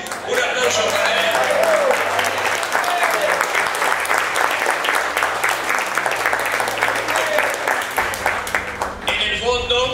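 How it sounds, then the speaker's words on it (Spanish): Sustained, loud applause from an awards night audience, dense clapping throughout with music or a band playing beneath it and a voice talking near the end. "un aplauso para él"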